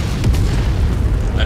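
A loud, deep boom of artillery fire from the game MechWarrior 5 fills the moment, a heavy low rumble that lingers briefly with a sharp crack near the end.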